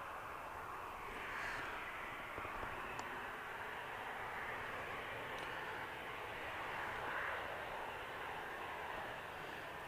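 An airliner touches down at Manchester Airport, its engine roar faint and distant, swelling gently twice as it rolls along the runway.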